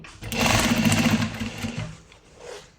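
An electric sewing machine in a tailoring shop runs in a fast, steady chattering stitch for about a second and a half, then slows and fades, with a faint voice briefly behind it.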